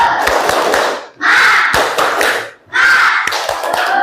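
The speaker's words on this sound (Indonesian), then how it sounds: "Semuanya tepuk semangat." A school class performs a spirit clap together: loud bursts of rhythmic group clapping with sharp hand slaps and shouted chants. Three surges are separated by brief pauses.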